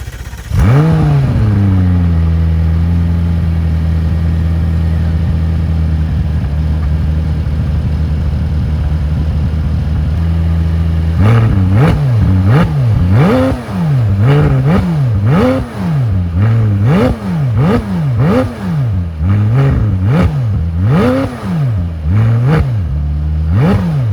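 A 2019 McLaren 600LT sports car engine fires up loud and close, settles into a steady droning idle, then bursts into a long series of sharp revs rising and falling in quick succession.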